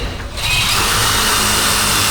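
Power drill driving a screw into a metal stud while framing a wall, a steady loud whirring grind that starts after a brief pause and runs continuously to the end.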